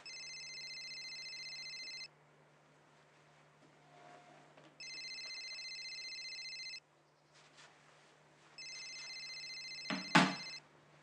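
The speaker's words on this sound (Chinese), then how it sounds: "你手机响了，怎么不接电话呀？" A phone rings in three long electronic bursts separated by pauses, steady and clear, with a brief sharp knock near the end of the last ring.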